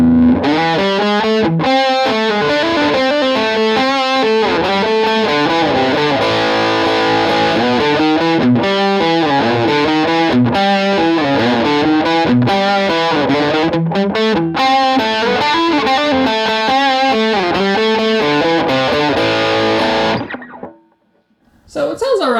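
Electric guitar with cheap used Epiphone pickups played through heavy distortion, loud chugging chords and riffs over about twenty seconds, then cutting to near silence at the end.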